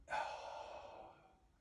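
A single deep breath is let out in one long, soft, breathy exhale, close and quiet, tapering gradually over more than a second with no talking.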